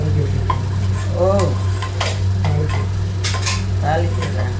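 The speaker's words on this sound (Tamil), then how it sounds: "தாளிக்கிறேன்." Spices for rava kichadi temper in hot oil in a pan in a home kitchen, giving a steady sizzle under clinking spoon-on-metal stirring, with a constant hum and brief snatches of voice.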